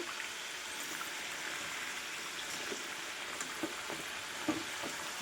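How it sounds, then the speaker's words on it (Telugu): Goru mitti snack frying in ghee, a steady fine hissing sizzle throughout with occasional soft pops, close and moderately loud with no voices. "ఈ కలర్ వచ్చే వరకు వేయించుకోవాలి"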